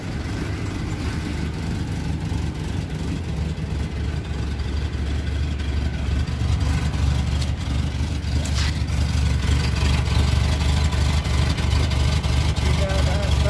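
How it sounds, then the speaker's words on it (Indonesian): A 1995 Suzuki Carry Extra engine idles with a steady low rumble that holds evenly throughout, with faint background noise over it. "Mesin masih halus,"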